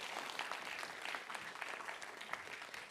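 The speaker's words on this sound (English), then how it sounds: "Let's give him a round of applause, shall we?" Faint, distant audience applause at an evening event with Tim Farron, a steady patter of many hands clapping that continues evenly for a few seconds with no talk over it.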